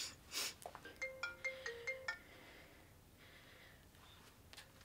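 A phone ringtone for an incoming call plays a bright, repeating electronic melody of quick beeping notes, then stops, followed by a faint breath and a short quieter tone in a quiet room.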